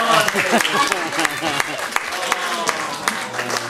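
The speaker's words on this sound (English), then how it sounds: "Oh, give her a clap, everybody." Scattered audience claps at a live magic show with a rabbit ring out in sharp, uneven bursts while a performer keeps talking over them.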